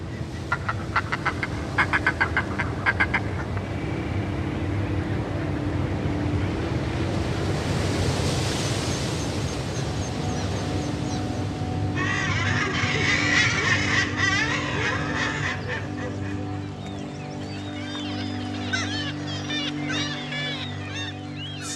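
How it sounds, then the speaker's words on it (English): A seabird colony calls beside the sea, with dense chattering and squawking birds rising over steady surf and gusty wind noise, busiest in the second half; no one speaks. "It's a very famous seabird colony."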